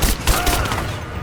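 Dense burst of automatic gunfire in the game Rise of the Tomb Raider, rapid overlapping shots and booms rattling loud and close for just over a second.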